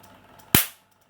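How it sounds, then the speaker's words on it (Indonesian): An electric fish shocker with a 1 ampere transformer discharges in a single sharp, loud pop, like a cap gun, against faint background noise and then silence. "lumayan keras ya suara letusannya"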